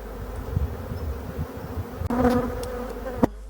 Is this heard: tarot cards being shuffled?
no